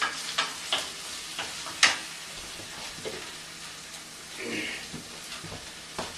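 Four eggs cracked one after another into a pan, each landing with sharp ticks and a faint sizzle, while a person talks quietly over the cooking.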